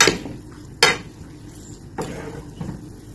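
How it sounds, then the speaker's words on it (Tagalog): Bihon rice noodles being stirred together with softened beans in a cooking pot, giving a few sharp utensil clanks and scrapes against the metal, close by, with no talk. "Mix them all together."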